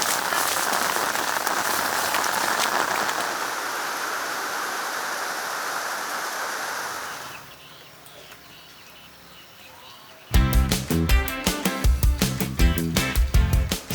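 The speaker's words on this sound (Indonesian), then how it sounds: "Yuk, hujan gede yuk." Dense, steady rainfall hisses loudly for several seconds, then fades to a quieter patter before rhythmic music cuts in.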